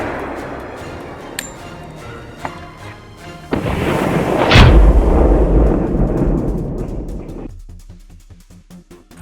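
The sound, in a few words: gunshot from a hunting rifle in a pine forest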